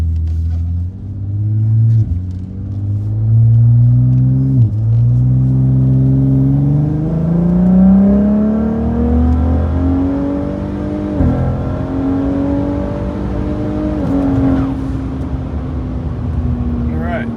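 A modified Ford F-150 with a 3.5 EcoBoost engine accelerates hard from inside the cab. The engine drone climbs steadily in pitch and drops sharply at several quick gear shifts, loud and continuous throughout.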